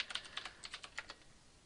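Quick bursts of keystrokes on a computer keyboard as a username is typed in, a dozen or so light clicks in an uneven run, close and fairly soft, with no talking.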